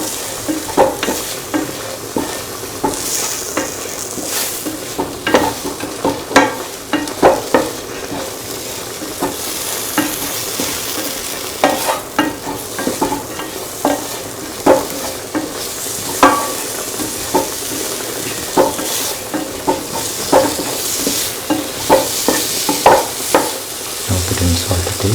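A spoon repeatedly scrapes and stirs green mango and mung bean rice in a pan, a steady soft sizzle of frying running beneath the irregular, close clatter for the whole stretch with no talking.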